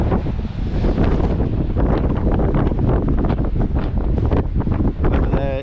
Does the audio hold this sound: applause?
no